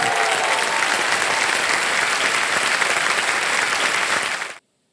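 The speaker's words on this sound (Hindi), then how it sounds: "सर आप लोग कभी ताली बजा दिया कीजिए" Studio audience at the KBC quiz show breaks into loud, dense applause that holds strong for over four seconds before cutting off abruptly into silence.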